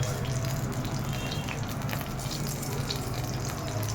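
Mustard seeds hit hot oil in a pan for curry leaf chutney and sizzle continuously, a dense, crackling hiss with scattered pops, close and steady from start to finish with no voices.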